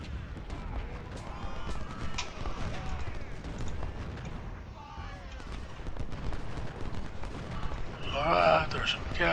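Cannon and musket fire in a Civil War battle at Fredericksburg in Ultimate General: Civil War, a continuous rumbling barrage of booms and crackling shots at mid-distance, swelling louder near the end, with talking over it.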